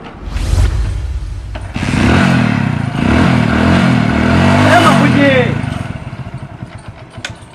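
A motorcycle engine runs steadily close by for several seconds, its rumble lasting through most of the clip while people talk over it.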